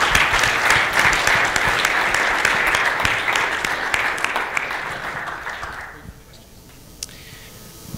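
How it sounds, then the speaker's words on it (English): Audience applause for a company chief executive in a conference room, a dense burst of clapping that holds steady for about six seconds, then thins to a few scattered claps and near quiet. "Let's thank him with applause."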